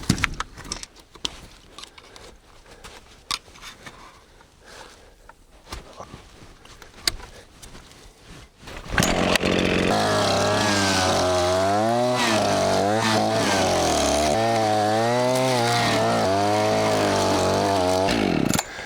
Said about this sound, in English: It barely spins and the chainsaw is running really hot.